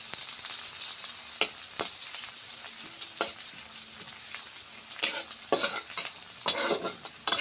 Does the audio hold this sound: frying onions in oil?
yes